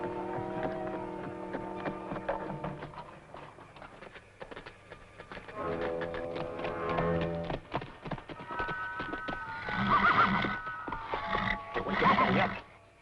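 Horses in a small corral whinny repeatedly, several loud neighs rising and falling, mixed with scattered clip-clopping hooves, no voices heard.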